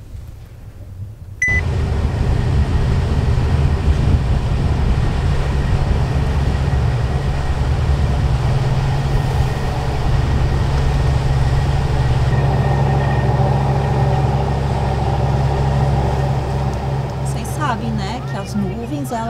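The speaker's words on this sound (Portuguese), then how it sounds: "vou ligar o motor." A sailboat's auxiliary engine starts with a sudden onset and then runs steadily as a loud, constant low drone, with some brief sounds and people talking nearby over it.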